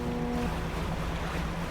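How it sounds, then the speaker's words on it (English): A boat approaches in the fishing game Dredge, with a low engine drone and steady tones over a continuous rush of sea water and wind. "I hear you, boat. Please don't crash into me."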